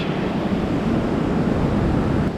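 Surf rolls steadily onto a deserted island beach in a continuous broadband wash, with wind buffeting the microphone and no voices.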